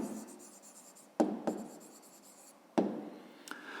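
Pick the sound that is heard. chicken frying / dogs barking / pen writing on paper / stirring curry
pen writing on paper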